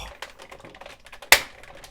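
Ratchet joints on an oversize Transformers Optimus Prime figure, a quick string of small crisp clicks with one sharper, louder snap near the end, close up and without talk.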